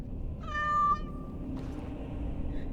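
A cat in the Dragon Age: Awakening video game gives a single drawn-out meow, clear and fairly close over a low steady game ambience, followed by a brief fainter rustle.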